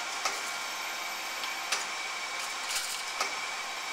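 A GMN MPS 3 H-132 vertical spindle reciprocating table surface grinder runs steadily on coarse feed, with a constant mechanical hum and periodic clicks and ticks as the table reverses.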